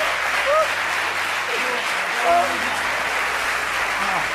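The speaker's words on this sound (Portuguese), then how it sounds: "Un aplauso para Antonio Simões." An audience applauds Antonio Simões during a live afternoon broadcast, with steady sustained clapping throughout and brief voices cutting through.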